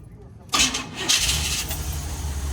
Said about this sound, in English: gotta give it a lot of gas to get her running